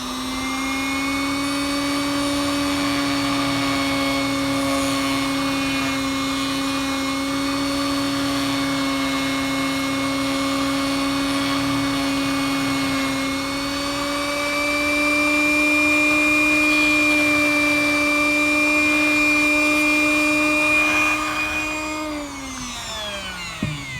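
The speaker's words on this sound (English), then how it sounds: "I'm going to remove part of it anyways with my Dremel" A Dremel rotary tool grinds plastic off a model locomotive, a loud steady high whine that holds for about twenty seconds, rises slightly in pitch midway, then winds down at the end.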